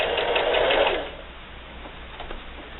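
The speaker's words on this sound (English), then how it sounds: "I'm going to sew right off the edge there following my chalk" A sewing machine stitches a quilted Halloween hexagon table topper off the fabric edge in a quick whirring burst for about a second, then drops to a faint hum with a few light clicks.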